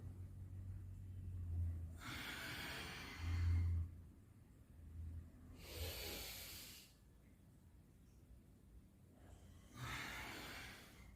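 A person doing yoga stretches for belly fat breathes in a slow, regular rhythm, with three long, close, airy exhales or inhales spaced a few seconds apart, alone and quiet.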